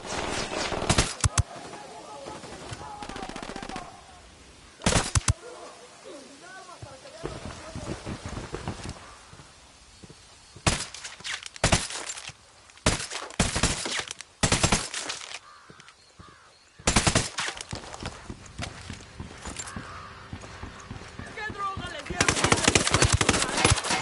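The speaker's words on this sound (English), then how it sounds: "Firing." Automatic weapons fire in Ghost Recon Wildlands during a cartel firefight: loud, rapid bursts of gunfire in several clusters, separated by short quieter gaps, then a long sustained barrage toward the end.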